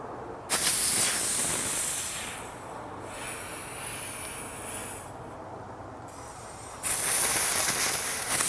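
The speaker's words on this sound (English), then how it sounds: "we're going to take compressed air on your air blower and blow air into the fork" Compressed air from an air blower rushes into a WP 4CS motorcycle fork, a loud continuous hiss that dips in strength midway and then surges back.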